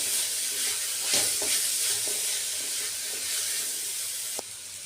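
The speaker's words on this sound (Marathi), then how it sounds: "त्यात भाज्या टाकून घेतलेल्या आहेत आणि छान परतवून घेत आहे" Mixed vegetables sauté in a large pot for kadhi pulao, giving a loud, continuous sizzle with occasional stirring scrapes and clinks.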